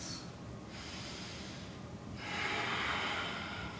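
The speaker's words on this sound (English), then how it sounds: "And then take 3 deep breaths." Deep yoga breaths drawn in and pushed out through the nose, close and airy, with a long inhale followed by a louder, fuller exhale.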